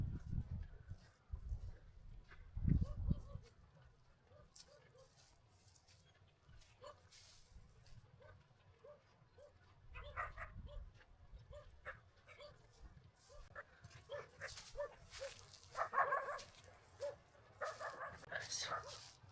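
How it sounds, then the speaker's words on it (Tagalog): A dog barking on a Pangasinan white sand beach, scattered barks and yips rising in bursts across the stretch, fairly faint and mixed with people talking nearby. "May aso."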